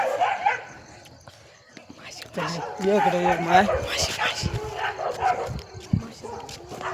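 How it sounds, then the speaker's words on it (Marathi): Dogs bark in short bursts at a moderate distance, mixed in with steady talking from several people nearby. "बघा का आपले कुत्रे बघा"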